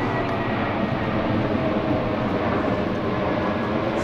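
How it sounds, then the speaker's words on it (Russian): Airplane flying low over Frankfurt on a landing or takeoff approach, a loud, sustained engine roar filling the whole clip with no speech over it. "Тут вот один недостаток – это самолеты. Очень низко идут на посадку"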